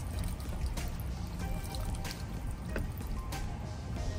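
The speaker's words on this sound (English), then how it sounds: "like the water's coming back out." Water trickles and drips back out of a GMC/Silverado pickup cooling system during an electric fan swap, a close, continuous splattering with a few sharper drips.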